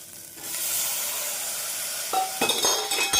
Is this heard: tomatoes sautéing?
yes